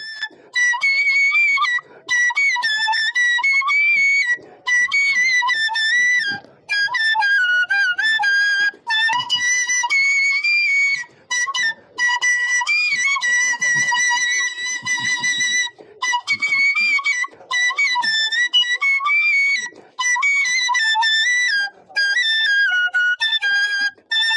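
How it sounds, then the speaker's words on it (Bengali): A 78-year-old man plays a bamboo flute on a railway station platform. The tune is loud, close and ornamented, with a bright, breathy tone, and runs in long phrases separated by short breath pauses. "কখনো দেখা যায় প্ল্যাটফর্মে ঘুরে ঘুরে বাঁশি বাজাচ্ছেন"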